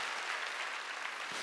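A church congregation applauds at a Wednesday worship service, a steady, dense wash of clapping that fills the whole moment at an even level, with no voices standing out.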